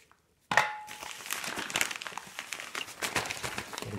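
A plastic parcel shipped from Germany is crinkled and rustled close up. The busy, continuous crackling starts abruptly after a short silence and goes on without talk.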